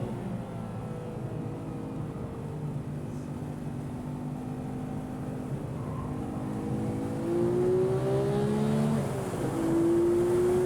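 Stock Porsche 911 991.2 GT3 with six-speed manual on a race track, engine droning steadily at close range, then revving harder with rising pitch toward the end.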